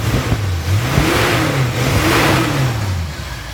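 A 1964 Chevrolet 409 V8 runs close by, a steady loud idle with a deep burbling exhaust and slight rises in engine speed, no talking.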